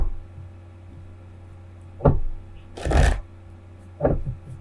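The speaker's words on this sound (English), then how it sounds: "Just pull up all the cards here." Tarot cards pulled and shuffled on a slightly unstable table: three separate bursts of riffling and flicking paper, each short and close, with quiet room hum between them and no talk.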